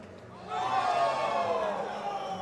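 Crowd noise from spectators watching youth players on a nearby lane at a singles bowling event in Lubbock, Texas, a broad swell of voices and cheering rising after a quiet start and holding steady.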